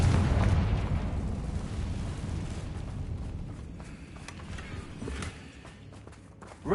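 A Confringo fire spell explodes in Hogwarts Legacy, a loud booming blast that rumbles and slowly fades over several seconds, with a faint thud near the end.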